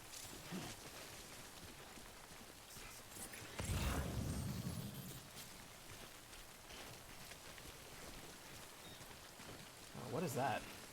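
Rain falling in the video game Death Stranding, a soft steady patter and hiss throughout, with a louder swell of heavier rain or rumble near the middle and another brief burst near the end.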